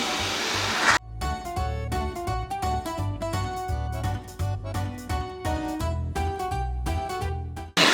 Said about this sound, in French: On a un nouveau robot, ma chérie. Démarrage du nettoyage.